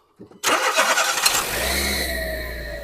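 A car's engine is started cold with keyless ignition, cranking briefly and then catching into a loud, steady idle that fills the rest of the clip, close to the microphone.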